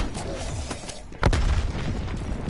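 A frag grenade goes off in the zombies mode of Call of Duty Cold War: one sudden loud, close blast that rolls into a rumbling tail over a busy bed of in-game gunfire and noise.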